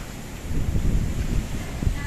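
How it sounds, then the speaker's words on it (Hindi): Strong, gusty wind blows steadily through an outdoor setting during a dust storm, a loud broadband rush with buffeting on the microphone and no voices. "हवा चल रही है और हवा काफी तेज चल रही है।"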